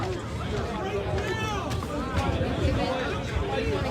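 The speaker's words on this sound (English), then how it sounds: "There's a lot of background crowd noise and a lot of, like the wind keeps popping up at us too." Dense crowd hubbub at a nighttime protest near the Capitol in Washington, DC, a steady wash of many voices and chatter with scattered shouts rising now and then, fairly loud and continuous throughout.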